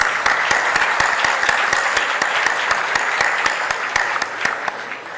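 A crowd applauds steadily, many hands clapping at once with sharp individual claps standing out, loud and close throughout.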